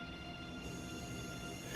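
A train pulls out of a station in Train Sim World 4, a steady faint rumble of running gear and motor hum without distinct clicks, quiet and continuous throughout.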